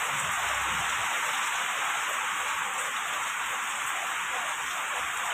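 Rain drums steadily on metal roof sheets overhead, a dense, even hiss-like patter that fills the whole stretch at moderate, unbroken loudness.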